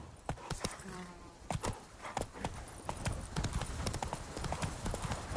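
Horse hooves in The Witcher 3 clip-clop in a quick, steady gallop rhythm throughout, close and fairly loud, with a brief snort or whinny early on.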